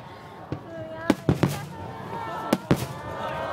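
Fireworks burst over the Lake Suwa fireworks festival in August 2011, a series of sharp, loud booms in uneven clusters that echo off the surrounding terrain, with crowd voices murmuring underneath.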